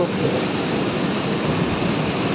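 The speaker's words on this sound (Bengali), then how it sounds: "বৃষ্টি হচ্ছে না, কিন্তু প্রচণ্ড পরিমাণে ঝড় হচ্ছে।" A steady, heavy roar of strong storm wind without rain, loud and unbroken from start to finish.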